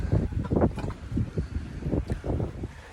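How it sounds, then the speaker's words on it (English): Wind gusting at sea aboard a 30ft sailboat on an offshore passage from Neah Bay, Washington to San Francisco, buffeting the microphone in loud, rumbling low surges with no talk. "Just pray that this wind stays like this"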